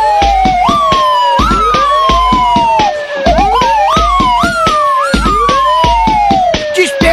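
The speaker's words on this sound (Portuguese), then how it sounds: "Todo mundo treme quando ouve a sirene assim" A police siren wails loudly and close in a comedy rap song, its rising and falling tone repeating in cycles over a steady pounding beat.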